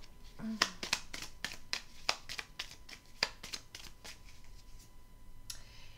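A deck of cards is handled during a card reading, with a quick run of crisp, close snaps and flicks from the cards that thin out into a few faint ones, all soft and quiet.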